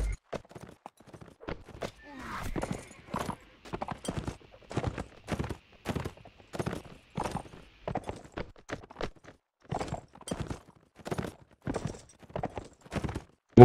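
Horse hooves clop steadily in a video game, a long run of evenly paced, moderately loud hoofbeats on a hard surface, heard on their own.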